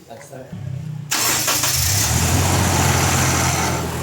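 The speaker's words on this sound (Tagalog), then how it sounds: "After mapa-start itong makina, hayaan ko muna naka-start yan hanggang sa 20 minutes" A Toyota Innova with an overheating problem, a radiator issue and a leaking gasket cranks briefly and fires up, then settles into a loud, steady idle close by, with a voice audible just before the start.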